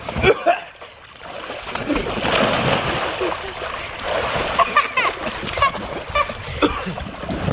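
Splash of a child diving into a kiddy pool: a sharp burst of water followed by sloshing, with children chattering and shouting close by.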